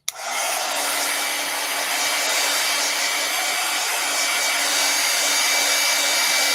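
Hair dryer blowing steadily on a bee-themed craft, a loud continuous whooshing roar with a faint whine, close and alone with no talk.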